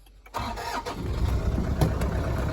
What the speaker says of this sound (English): Can we get the engine started?